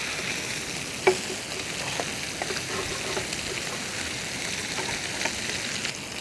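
Food roasting on a hot stone griddle, its skin sticking to the stone, gives a steady soft sizzle with a few faint clicks and pops, heard alone with no talking.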